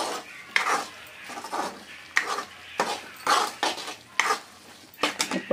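Prawn pickle ingredients being stirred and mixed in a pan, a spoon scraping and clattering against the metal in repeated, uneven strokes, close and fairly loud with no talking.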